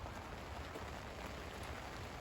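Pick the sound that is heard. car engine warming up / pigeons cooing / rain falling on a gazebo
rain falling on a gazebo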